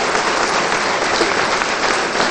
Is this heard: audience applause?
yes